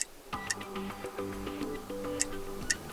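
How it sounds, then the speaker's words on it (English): Ticking-clock notification tone on a Samsung Galaxy Watch 4, a short run of crisp, regular ticks with a few light chiming notes, clear and close. "ticking clock,"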